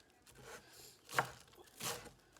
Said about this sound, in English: I'll be dicing up the whole cilantro, stems and all.